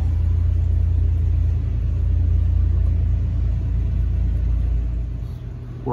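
A STIHL or Echo string trimmer engine runs with the throttle squeezed short of wide open, a steady close low rumble that eases slightly before the end.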